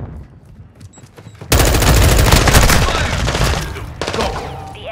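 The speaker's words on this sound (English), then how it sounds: "Stun grenade!" A stun grenade bangs in Call of Duty Mobile, then a loud, dense burst of automatic gunfire rattles on for several seconds before easing off, with no talking.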